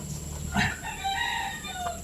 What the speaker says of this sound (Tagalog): alas 12 na ngayon tilaok ng manok